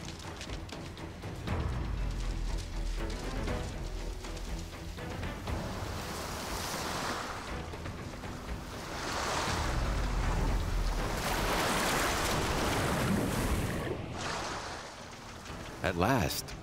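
Sea waves roll onto the shore in broad, rushing surges that swell and fade over and over, with wind blowing across the microphone.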